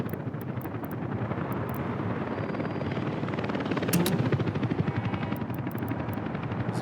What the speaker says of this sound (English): We'll get our helicopters involved here.